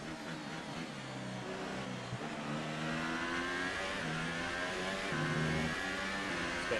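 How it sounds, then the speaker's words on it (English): F1 race car engine in the game F1 2018 at Bahrain, a loud high-pitched whine that rises and falls steadily through gear shifts, continuous and close with no talking over it. "I need to basically drive 3 quali laps with dead tyres to stay ahead of Fernando"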